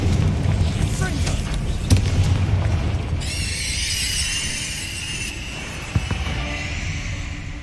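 A Confringo fire spell bursts in Hogwarts Legacy, a deep booming blast with rumbling follow-through and a short sharp impact later, joined by a bright whooshing magical tone midway.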